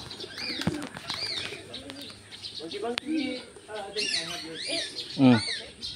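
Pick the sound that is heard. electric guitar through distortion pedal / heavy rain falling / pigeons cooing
pigeons cooing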